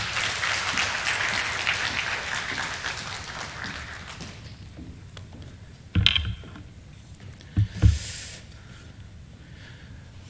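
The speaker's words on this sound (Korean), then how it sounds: "나오실 때 큰 박수로 환영해 주시기 바랍니다." A congregation at a Friday evening church prayer meeting applauds to welcome a pastor onto the stage, with steady clapping that gradually fades out, followed by a few scattered knocks and shuffles.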